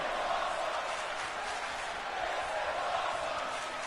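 Arena crowd chanting and roaring in a wrestling video game, a dense continuous wall of voices at steady volume throughout.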